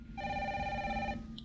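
A telephone rings once in a short electronic burst inside the Resident Evil 3 video game, clear and close, then cuts off.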